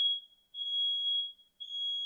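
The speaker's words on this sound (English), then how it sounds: "Oh, that's a smoke alarm." A smoke alarm beeps loudly with long, piercing high-pitched tones, two full beeps separated by short gaps, with nothing else audible.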